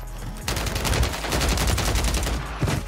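Rapid automatic gunfire in Warzone 3, a loud, close, continuous burst of shots lasting a couple of seconds, followed by a brief extra burst near the end.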